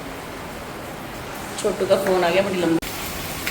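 Steady heavy rain hisses throughout as a broad wash of noise, with someone speaking briefly over it partway through.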